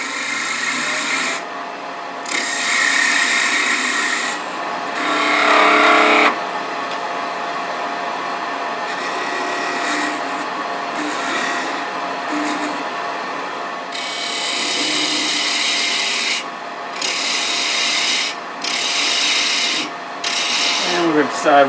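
A wood lathe turns a tenon on a piece of scrap wood for a Christmas tree ornament, with a steady motor hum overlaid by repeated scraping bursts of tool cutting wood that come and go in uneven stretches.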